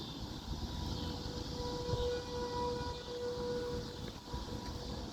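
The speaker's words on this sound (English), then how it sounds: "I gotta see where the siren's coming from real quick." A civil defense siren sounds outdoors during a tornado warning, a faint, steady wail that holds one pitch above a constant murmur of wind and distant ambience.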